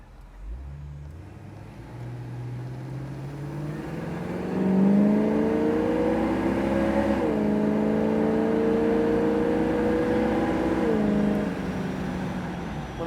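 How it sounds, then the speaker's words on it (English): A 1967 Pontiac GTO convertible with a 400 engine accelerates on the road, its exhaust note climbing steadily through the gears and holding loud and close before easing back near the end; no one speaks. "Real nice power out of this 400 motor."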